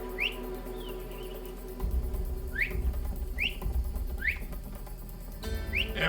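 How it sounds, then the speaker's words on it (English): Whistling in the video game Assassin's Creed Odyssey: a series of short rising whistled chirps repeating at irregular intervals over a low ambient hum, with some thuds beneath and no talk. "Stop that whistling!"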